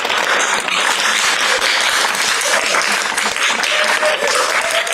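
An audience bursts into loud, dense applause after a talk, steady clapping from many hands, with whoops mixed in, filling the room continuously without letup.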